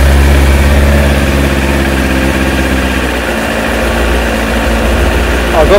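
A Kawasaki ZX9R Ninja motorcycle engine idles just after start-up, a loud, close, steady rumble that dips slightly midway and then holds even.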